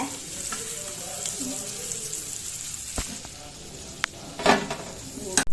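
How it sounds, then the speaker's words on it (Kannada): Mackerel (bangude) masala sizzles steadily in a pan, a close continuous frying hiss with a few sharp clinks and a burst of stirring near the end. "ತುಲೆ ಫ್ರೈ ಆಗ್ತದೆ"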